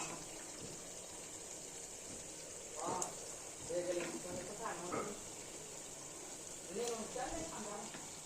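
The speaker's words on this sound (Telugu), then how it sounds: "ఆయిల్ ఉల్లిపాయలు మగ్గిపోయినాయి కదా ఇందులో వేసుకోవాలి మటన్ అంతా" Mutton pieces frying in hot oil with softened onions, a steady sizzle with bursts of louder hissing and spattering as the meat settles, under a faint voice.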